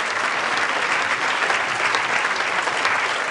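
Congregation at a church service applauding steadily, dense sustained clapping from many hands filling the room without a break.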